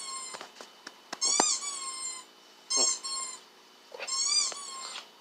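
Dog squeaky toy sounds played back through a speaker, a run of quick squeaks followed by three longer, loud, bright squeals spaced about a second and a half apart.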